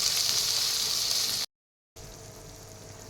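Sliced onions sizzle in hot oil in a pan, a steady broadband frying hiss that cuts out briefly and then resumes at the same level, with no talking.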